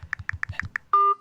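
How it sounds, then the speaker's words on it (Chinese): A phone number is dialed on a keypad: six quick tone beeps in an even rhythm, followed by a single longer steady tone, close and clear with no talking. "我打电话。"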